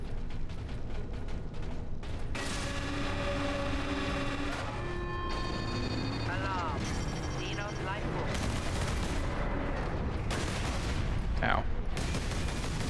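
Kraken Bolter gunfire in Warhammer 40,000: Space Marine, with rapid bursts of shots alongside mechanical clanks and creaks over a dense, loud combat din, while a voice gives a brief exclamation.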